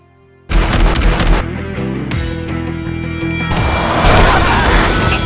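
Gunfire from an offline mobile shooting game set in the Wild West breaks in suddenly after a brief quiet, loud rapid shots and blasts continuing nonstop over layered game sounds.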